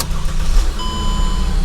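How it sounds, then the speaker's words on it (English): A Mercedes W209 engine turns over and catches, a short loud burst of cranking and firing that settles into a steady close idle with a faint high whine riding on top. "The car starts."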